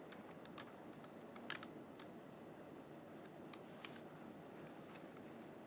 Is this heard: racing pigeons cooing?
no